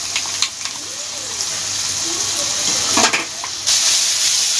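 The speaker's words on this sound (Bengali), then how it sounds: "তেলের মধ্যে ভালোভাবে নেড়ে যেতে হবে, আর ভালোভাবে ভেজেও নিতে হবে।" Ginger and garlic paste, with green chilli and tomato, sizzles in hot oil for a Bengali jackfruit prawn curry, a steady hiss with occasional scraping stirs and brief clatters, close and fairly loud, with no talk.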